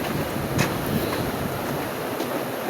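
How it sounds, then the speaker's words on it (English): A winter mountain waterfall crashes down with force, producing a loud, continuous broadband roar and hiss of falling water, close by, with faint wind buffeting. "Look at the fall coming down."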